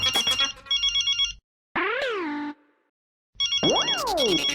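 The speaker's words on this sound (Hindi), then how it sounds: "यार ये बॉस का फोन, ये चैन से कुछ खाने भी नहीं देगा।" A phone ringtone plays in bursts, an electronic melodic tone with rising and falling sweeps, stopping briefly in the middle before ringing again, loud and close with no talk.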